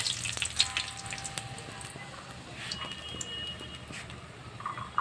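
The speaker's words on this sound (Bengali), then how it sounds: "প্রথমে শুকনো লঙ্কাটা ভেজে নেব।" Dry red chillies fry in a pan with a faint, crackling sizzle and scattered small pops, steady and fairly quiet throughout.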